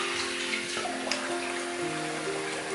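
Water runs steadily as shaving soap lather is rinsed off, a continuous splashing rush with a few brief drip-like accents, close and alone.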